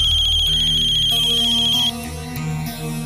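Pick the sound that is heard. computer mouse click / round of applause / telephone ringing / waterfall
telephone ringing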